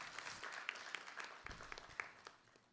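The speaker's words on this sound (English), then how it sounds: "So for this, a big claps are required." Audience applause at a Ramananjali devotional music concert, faint scattered clapping that tapers off over a few seconds.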